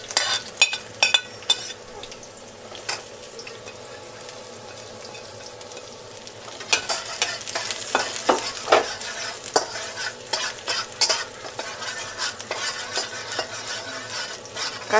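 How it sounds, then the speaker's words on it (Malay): Garlic stir-fried over very high heat in a pan for pad thai, a continuous bright sizzle with scraping and clinking of a spatula stirring, growing busier midway, fairly close with no speech. "Kacau selama 5 saat."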